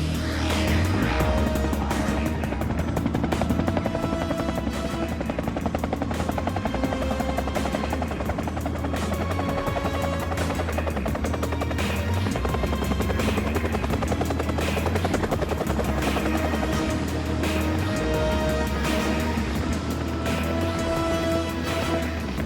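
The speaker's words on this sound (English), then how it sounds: "Medical help arrives via helicopter." A helicopter arrives in a film scene, its steady loud thumping rotor drone and engine whine holding for over twenty seconds, with a layer of other scene sound mixed underneath.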